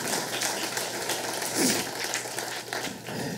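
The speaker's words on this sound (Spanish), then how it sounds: "Alguien dele un aplauso a Jesucristo en este lugar." A church congregation applauds during a Spanish-language sermon, a steady wash of clapping lasting a few seconds at moderate level.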